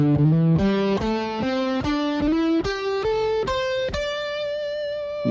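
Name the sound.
electric guitar playing a scale with slides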